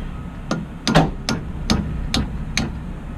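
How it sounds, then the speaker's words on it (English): Hammer blows on a U-joint of a Volvo, about seven sharp metallic strikes at a fairly even pace, close and distinct over low background noise. "No, no, just hammer it in there. Don't pry it."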